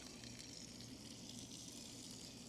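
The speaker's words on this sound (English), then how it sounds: "Once you get the water flowing, gravity takes over from there." Steady rushing water drains continuously through a hose from a Bass Raider boat, a broad even gush, close and constant with no pauses.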